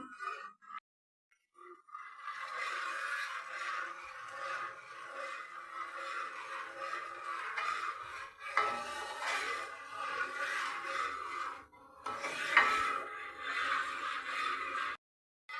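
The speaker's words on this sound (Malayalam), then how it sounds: "ഇനി നന്നായി ഇളക്കി കൊടുക്കുക വറ്റുന്നത് വരെ നമുക്ക് കാത്തിരിക്കാം" Jackfruit and jaggery mixture cooking down with ghee in a pan, stirred steadily with a spoon: a continuous close scraping and sticky shuffling that runs almost without break, with a couple of short pauses and faint clinks of utensil on pan.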